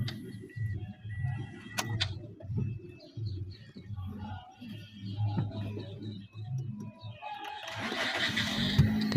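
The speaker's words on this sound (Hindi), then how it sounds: "सल्फ लगाया तो बिल्कुल फौरी स्टार्ट होगी गाड़ी।" A Toyota Yaris with a faulty fuel pressure regulator valve cranks in a rapid rhythmic chug for several seconds before the engine catches, close by, with a bird calling faintly in the background.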